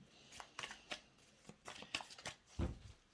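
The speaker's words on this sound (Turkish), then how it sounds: "kartlar uçuyor" Tarot cards shuffled in a few quick riffling bursts with soft slaps, close and fairly quiet, ending in a louder thump as the deck settles.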